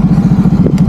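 A motorcycle labours to climb out of a deep rut, its engine droning steadily in a low, strained tone with a brief clatter near the end; close and fairly loud throughout.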